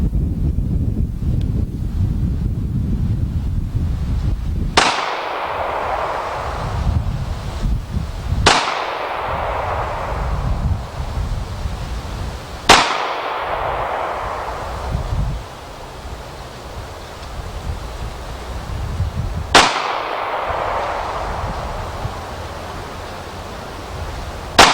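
Custom pistol firing Winchester jacketed hollow points at an outdoor range, four sharp, loud cracks spaced several seconds apart, each ringing out briefly over heavy gusting wind noise.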